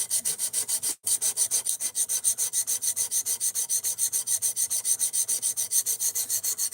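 D2 steel knife blade of an Ozark Trail axis lock knife being sharpened on a stone, close rhythmic scraping strokes in an even back-and-forth pattern, with one short pause near the start.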